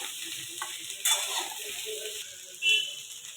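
Okra with tomato and lemon sautéing in a pan, giving a soft steady sizzle with occasional stirring scrapes and clinks, fairly quiet throughout.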